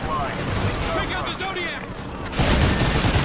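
Gunfire in the first-person shooter Call of Duty: Ghosts, a steady crackle of shots under whining, sweeping effects, swelling into a louder, denser volley toward the end.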